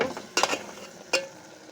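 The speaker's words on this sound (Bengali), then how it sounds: "এখন ভালো মতো মাংসটা আমি মশলা দিয়ে কষিয়ে নিব" Beef sautéing with ground coriander and ginger-garlic-cumin paste in a pan, a low sizzle broken by two sharp scraping stirs of a spoon against the pan, quiet and close.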